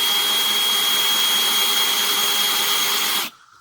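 A power drill bores a hole in oak, giving a loud, steady high-pitched whine that runs constantly for about three seconds and then cuts off.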